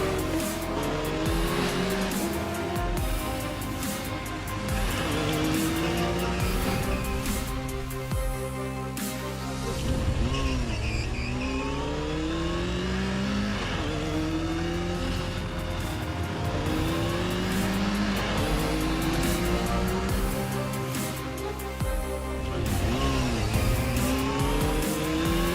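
Racing motorcycles from the official Isle of Man TT video game scream past with rising and falling engine revs and gear changes, loud and continuous, with no talking over it.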